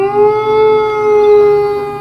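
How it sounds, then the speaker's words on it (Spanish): Loud, sustained howl of a giant hound on a moor, a single drawn-out tonal wail with a slight wavering pitch, heard alone for two seconds. "escuché en lo lejano del pantano el tenuente aullido de algún sabueso gigante."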